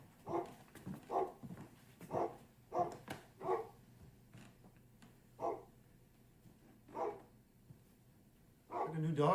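Dog barking in an old film scene, a series of separate barks spaced irregularly, some quick pairs then slower single yips, moderately close under a faint hum, with a person speaking briefly at the end.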